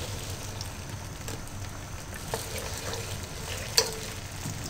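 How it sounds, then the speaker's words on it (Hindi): Okra pieces frying in hot oil, a dense continuous sizzle and crackle with a couple of brief utensil clicks, close up and steady throughout. "अब आप भिंडियों को फ्राई करने के लिए ऑयल गरम करें और उसमें भिंडियाँ डाल दें।"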